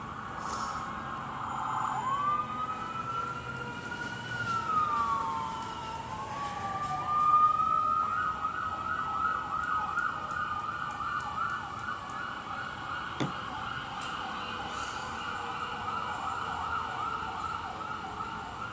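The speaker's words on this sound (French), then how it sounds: "il y a pas mal de différentes sirènes" Wailing ambulance sirens rise and fall, several tones overlapping as vehicles pass at moderate distance over steady traffic rumble.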